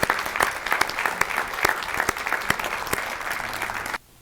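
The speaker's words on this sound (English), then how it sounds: "Let's give them all a round of applause." An audience at an annual awards meeting applauds steadily for about four seconds of dense, even clapping from many hands, then cuts off abruptly into quiet.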